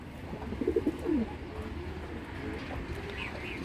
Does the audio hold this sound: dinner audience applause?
no